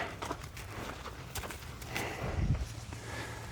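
A horse named Blue walks across a brand-new wooden bridge of fresh, unstained lumber, its hooves giving a series of close, hollow knocks in a steady walking rhythm over a faint outdoor background.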